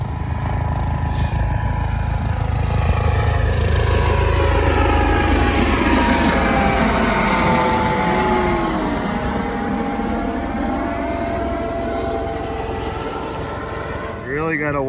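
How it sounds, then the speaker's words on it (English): A helicopter flies overhead at Duxbury Reef, California: loud, steady droning engine with a throbbing rotor-like pulse, holding close and constant throughout before a brief shift at the very end. "Helicopter."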